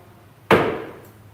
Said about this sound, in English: Hammer's coming down at 25.